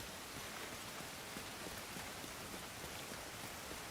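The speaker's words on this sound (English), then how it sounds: "The rain coming down" Steady, dense rainfall hisses evenly throughout in The Division 2, a hurricane-damaged city scene with mud, with no voices and only faint patters within the wash.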